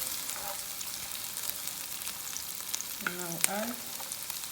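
Red pepper tipped into a frying pan of translucent onion, a steady close sizzle and frying hiss running throughout, with a brief stirring scrape near the end and a voice speaking briefly over it.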